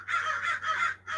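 Crows cawing in three or four harsh, drawn-out calls in quick succession, fairly close and loud, with a steady low hum underneath and no talking.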